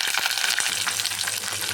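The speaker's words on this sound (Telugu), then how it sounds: "తాలింపు చక్కగా వేగిపోయింది" Steady, crackling sizzle of tempering spices and curry leaves frying in hot oil, loud and close, with a dense hiss throughout and no voices.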